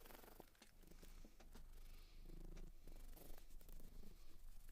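A cat purrs close by with a soft, steady rumbling texture, faint and continuous with no talk over it.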